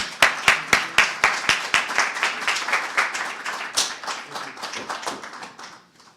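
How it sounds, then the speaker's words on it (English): A small audience at a community event claps in a steady, sharp rhythm, starting as distinct close handclaps and thickening into a softer, fading round of applause with no voices. "let's give him a round of applause"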